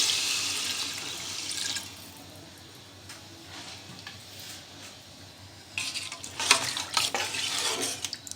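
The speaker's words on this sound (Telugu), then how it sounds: "కొలిచి ఉంచుకున్న వాటర్ని వేసేయాలి." Water pours and splashes into a pot of chicken biryani with mint and curry leaves, in two bursts, with quieter stirring and sizzling in between.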